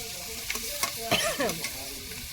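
Potato pieces drop into a hot pan and sizzle as they are stirred, with scraping and clinking of the spoon against the pan in short bursts.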